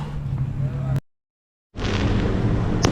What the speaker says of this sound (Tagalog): Sinalubong pa kami ng fireworks.